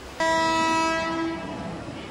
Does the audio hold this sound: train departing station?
yes